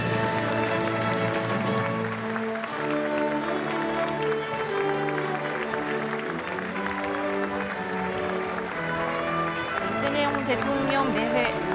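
Sustained, steady applause from about 300 lawmakers and dignitaries fills the National Assembly rotunda as the newly inaugurated South Korean president enters, blended with a tonal, music-like layer throughout.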